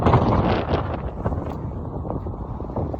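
Steady wind buffets the microphone on the Alaska coast, a continuous low rumbling roar with gusty surges, loud and close throughout.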